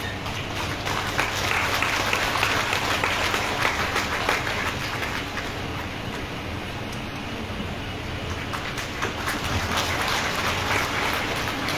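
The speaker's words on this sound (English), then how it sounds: "Please give a big round of applause for Shri Purno Chandra Jamatia" A large crowd at a public ceremony applauds Shri Purno Chandra Jamatia, Honorable CEM of TTADC. The applause is loud, dense and continuous throughout.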